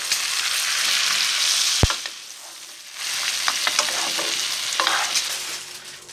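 Tournedos Rossini meat sizzles loudly in a pan while salted butter is spooned over it generously, with steady frying hiss and clattering basting and stirring in two close bursts. A short sharp knock interrupts midway.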